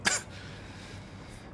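A single short, sharp cough right at the start, close and fairly loud, then a quiet room tone with faint low hum.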